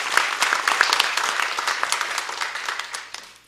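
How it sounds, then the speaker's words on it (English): Applause from the audience at a county freeholder board meeting, a crisp, close round of clapping that gradually thins and fades near the end. "another round of applause, absolutely."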